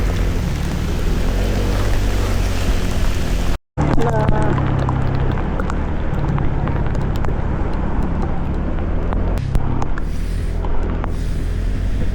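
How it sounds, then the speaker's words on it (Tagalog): Heavy rain pours and drums steadily over a low vehicle rumble on a road trip, with a brief cut partway through. "Sobrang lakas ng buhos ng ulan"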